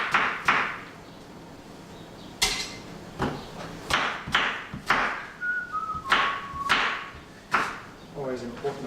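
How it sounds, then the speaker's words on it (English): A person whistles a few short tune fragments while chopping apple for a pink smoothie in a home kitchen, the whistling quiet and intermittent between sharp knife thunks on a cutting board. "Always important to whistle while you work."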